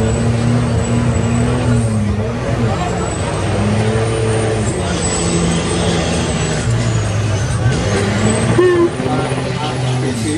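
Turbocharged, fuel-injected HC car engine on a track in Paraná, revving repeatedly up and down with sharp exhaust pops and crackles, loud and close, with voices nearby.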